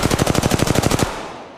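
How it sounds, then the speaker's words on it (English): Rapid automatic gunfire from enemies shooting at the player in Apex Legends Mobile, a loud close burst of about fifteen evenly spaced shots lasting one second, then a fading tail and one more sharp shot at the end. "The enemies are shooting at me."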